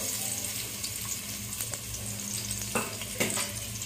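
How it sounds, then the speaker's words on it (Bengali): Half a cup of oil poured into a pan already holding ghee, for chicken mandi biriyani, gives a steady hissing, watery sizzle with a couple of brief sharper bursts near the end, close and moderately loud. "এখানে আমি 1/2 কাপ তেল দিয়ে দিব"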